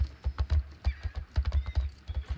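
Horse hooves clip-clop in a quick, uneven rhythm in the video game Star Stable Online, with a faint whinny rising briefly in the middle, close and clear with no talk over it.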